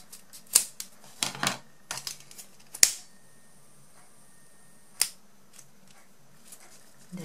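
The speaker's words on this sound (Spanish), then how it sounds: "aquí cortamos todo esto que sobra y sellamos" Scissors snip off leftover ribbon while a bow is being made, giving several sharp, quiet clicks and cuts spaced irregularly, with a faint background hum.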